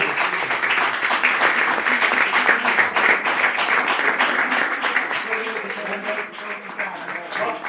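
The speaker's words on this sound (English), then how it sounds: "I will suggest to give again an applause to yourself, kids, because you were doing a really good job." A crowd applauds at an international hackathon conference, steady dense clapping that continues throughout, with a faint voice or tone emerging near the end.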